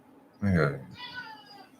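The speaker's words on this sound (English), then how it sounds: "Meow! I missed you too, Pee-Pee." A pet cat gives one close, loud drawn-out meow, followed by a softer trailing vocal sound.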